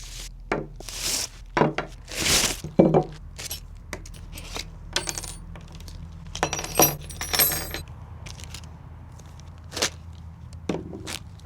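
Crinkling and rattling as packaged bow parts are unwrapped, a close series of uneven rustles, clinks and knocks with short pauses between bursts.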